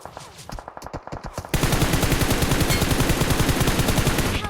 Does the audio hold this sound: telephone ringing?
no